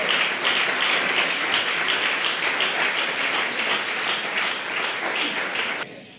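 Sustained applause from a church congregation, dense and steady clapping filling the room for several seconds before cutting off abruptly.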